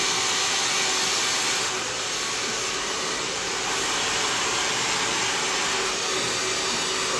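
A hair dryer blows continuously while styling a butterfly haircut, a steady close whooshing roar with no breaks.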